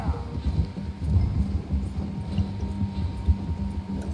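Horse hooves clip-clopping at a steady walking rhythm in the video game Red Dead Redemption 2, moderately quiet over a low background hum.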